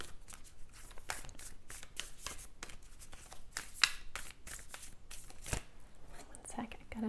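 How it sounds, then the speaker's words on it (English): A deck of cards is shuffled by hand in a quiet room, giving repeated soft riffling bursts in a steady rhythm, close and moderately quiet, with a faint voice murmuring underneath at times. "I'm going to do a shuffle for this one."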